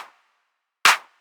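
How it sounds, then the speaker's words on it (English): A single loud, bright layered electronic clap hit in a deep house track rings out after a brief silence, preceded by the fading tail of an earlier hit. "layering in different claps to just give it a bit more of a unique characteristic"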